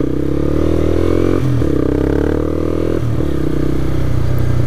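A Honda CBR125R motorcycle engine drones loudly and steadily while riding, with two brief dips in pitch as gears shift.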